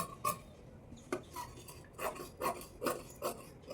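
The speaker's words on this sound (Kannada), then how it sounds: "ಸೊ ಈಗ ಮಾರ್ಕಿಂಗ್ ಪ್ರಕಾರ ನೀಟಾಗಿ ಕಟ್ ಮಾಡ್ಕೊಳ್ತಾ ಇದ್ದೀನಿ ನೋಡಿ" Scissors cut blouse fabric along a marked line, making a series of crisp, close snips in an irregular rhythm with short pauses between them.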